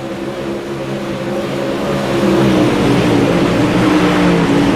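A super late model race car roars around a dirt track, a continuous engine drone that swells louder as the car closes in.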